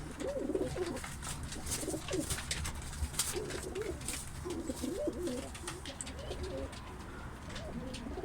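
Pigeons coo repeatedly in soft, throaty phrases over a steady background hiss, with faint chirps and rustles scattered throughout.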